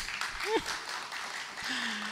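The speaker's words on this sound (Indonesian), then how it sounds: "Tepuk tangan dulu dong." Audience applause at the opening of a salt-painting exhibition in Yogyakarta, a short burst of crowd clapping with a voice briefly rising over it.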